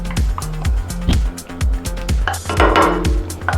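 A spatula scrapes and knocks against a bowl as mayonnaise and barbecue sauce go in, giving a loud run of clinking, tapping strokes in an uneven rhythm.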